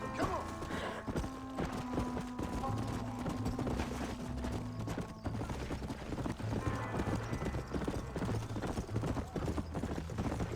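Horse hooves clip-clop steadily in the Western video game Red Dead Redemption, a continuous even rhythm with occasional whinnies and game ambience layered underneath, with no talking.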